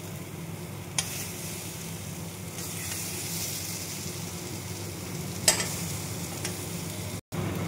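Masala for paneer matar fries in a pan with no water or oil added, giving a steady broadband sizzle under scraping stirs and a few sharp clicks of the spoon against the pan, with no talking.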